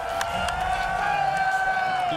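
A large crowd cheers and roars at a Tekken 8 tournament stage event, a steady wash of noise lasting throughout, with a commentator talking over it.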